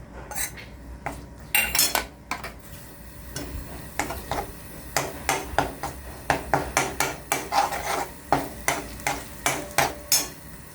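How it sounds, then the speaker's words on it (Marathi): Coconut, garlic and dried chili masala roasting in a pan while a spoon scrapes and stirs it, giving repeated metallic clinks and scrapes in a steady rhythm, close and fairly loud, with no voices. "मसाला चांगला भाजायचा"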